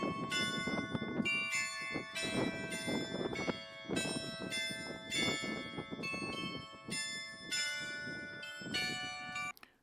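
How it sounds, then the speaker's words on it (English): Bells ringing in Willemstad, Curaçao: a sequence of clear, resonant metallic strikes in irregular rhythm, each with a long ringing decay, fairly close and loud with no voices. "there is something that people like to go see, and that is the bells."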